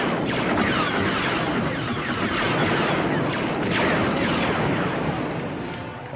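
Sci-fi blaster fire in a space battle, a loud, dense, unbroken barrage of zaps and booming blasts that stays at full intensity throughout.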